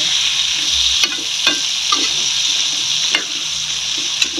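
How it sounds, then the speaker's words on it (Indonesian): Chili peppers fry in a pan with steady, loud sizzling, broken by a few soft clicks and scrapes of stirring. "Goreng dulu ya."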